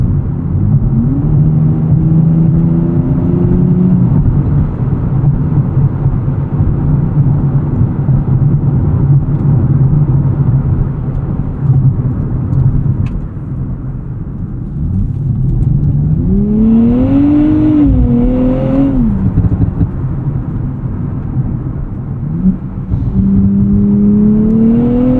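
A 2024 Nissan Z Nismo engine heard from inside while driving, loud and continuous, with rising revs through several gear pulls and a steady drone between them, no talking.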